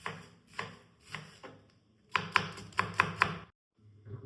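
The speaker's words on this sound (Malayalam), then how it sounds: "അപ്പൊ നമ്മൾ ഫൈൻ ചോപ്ഡ് ഓണിയൻ ഇങ്ങനെ വേണം ചോപ്പ് ചെയ്യാൻ" A knife finely chops onion on a board in quick bursts of crisp taps, a few spaced strokes then a rapid cluster, close and clear with no talking.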